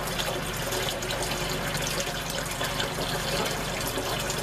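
Tap water runs steadily into a pot of sweet potatoes in a kitchen, a continuous close rushing splash without speech.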